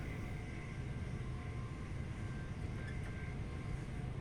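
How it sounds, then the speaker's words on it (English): A train passing in the opposite direction in Train Sim World 2, a London commuter Gatwick Express run: a steady low rumble and broadband roar holds throughout, fairly loud and continuous, with no voices. "if a train comes in the opposite direction, like this one, you watch."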